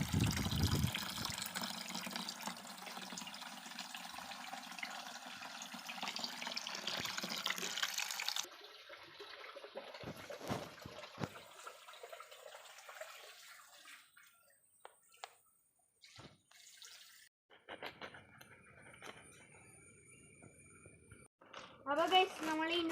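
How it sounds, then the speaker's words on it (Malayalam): Tap water pours into a bucket being filled for a home guppy tank, a steady rushing stream for several seconds that then fades to quieter trickles and clinks, with a voice talking over parts of it. "ഇതൊന്ന് വെള്ളം നിറയും വരെ നമുക്ക് വെയിറ്റ് ചെയ്യാം."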